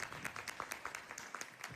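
Audience clapping at a Hindi book launch ceremony, steady scattered claps from a room of people, fairly faint and continuous without voices.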